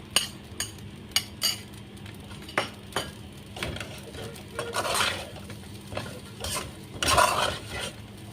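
Egg and other fried rice ingredients stirred in a hot pan, with repeated scraping and clinking strokes of a utensil over a steady sizzle, close and fairly quiet.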